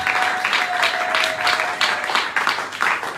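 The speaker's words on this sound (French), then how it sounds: "Acclamons très fort pour le roi de gloire" A church congregation claps and cheers together, steady crowd applause with rhythmic clapping swells and scattered shouts, filling the room at a lively, even level.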